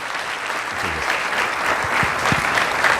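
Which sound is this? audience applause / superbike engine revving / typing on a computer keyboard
audience applause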